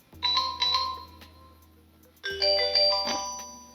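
A Lindo 2K dual-camera video doorbell sounds its 'Bounce' chime: a pair of bouncy electronic notes, a pause, then a brighter cluster of ringing tones, loud and clear with no voices.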